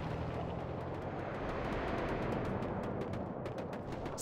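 Rapid cannon and gunfire bursts from tanks in a WWA RTS war game battle, dense overlapping booms forming a continuous loud barrage with sharp repeated crack-like transients throughout.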